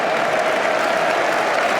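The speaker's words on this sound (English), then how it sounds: "Man City fans are applauding the Watford fans." Manchester City fans applaud the Watford supporters inside the stadium at the FA Cup final, a dense, steady wash of clapping from a large crowd that holds evenly throughout.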